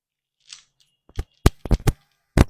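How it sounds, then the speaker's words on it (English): Scissors that are not very sharp snip through bracelet string in a few quick, close, crisp clicks, with a soft rustle before the first cut. "The scissors is not that sharp, but it's serving already."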